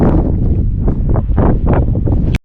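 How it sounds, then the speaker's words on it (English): Strong gusting wind roars loudly and continuously across the microphone in open desert country, with no voices over it. "Winds really kicked up, pretty windy."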